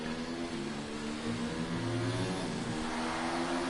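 A Formula 1 car engine in the F1 2019 racing game at Brazil, a loud, continuous high-pitched whine that rises and falls smoothly as the car shifts through gears, with no talking.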